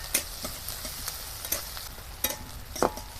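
Chopped onion, green chilli, ginger and garlic fry lightly in a pan for a potato snack, with a soft sizzle under scattered spatula scrapes and taps, close and fairly quiet.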